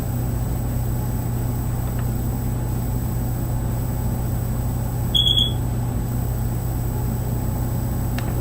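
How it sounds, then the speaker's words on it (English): A carbon monoxide detector chirps once, a single short high beep partway through over a steady low room hum. "you be hearing a little beeping. But see, we got a carbon monoxide"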